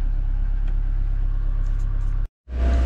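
Camper van engine held at steady high revs, a loud continuous drone that cuts out abruptly for a moment near the end before surging back in.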